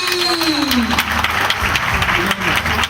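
An audience at a school graduation ceremony in Gabon claps steadily in a continuous wash of applause, with a voice and faint tones layered over it.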